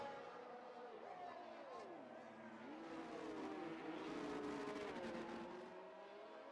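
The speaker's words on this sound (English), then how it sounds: "I've just turned the volume of the cars down a little bit" Race cars in a racing video game on a Portugal circuit, with the game volume turned down: engine whines rise and fall in pitch as the cars accelerate and shift, a steady, moderately quiet drone throughout.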